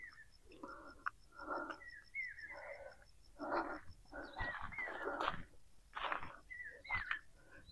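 A peacock calls repeatedly in an Indian forest, loud nasal cries in irregular bursts against faint steady insect buzz, with other bird calls mixed in.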